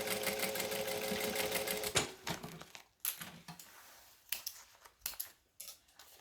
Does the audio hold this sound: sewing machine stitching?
yes